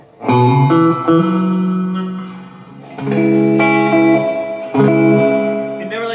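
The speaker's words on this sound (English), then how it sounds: "how audible and drippy and long the reverb can get" An electric guitar plays a few sustained chords through a Peavey Bandit amplifier, reverb at 5 of 10, with a long, wet reverb tail trailing each strum.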